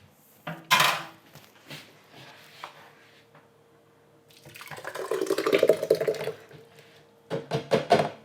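Thick cheese sauce for mac and cheese poured and scraped into a Vitamix blender jar, with clinks of a utensil against the container, then a wet sloshing pour and a few sharp taps, close up, no talk.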